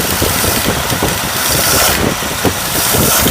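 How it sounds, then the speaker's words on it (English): A 1932 Oldsmobile engine idles with its choke open: a steady, close, loud mechanical rumble with a faint rhythmic knock running evenly throughout, and no voices. "At this point, we're at idle, open choke"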